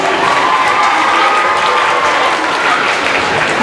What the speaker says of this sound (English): I want you to put your hands together and give Mr. Joel Alstead a nice round of applause.